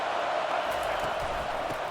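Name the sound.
stadium crowd noise in EA Sports College Football video game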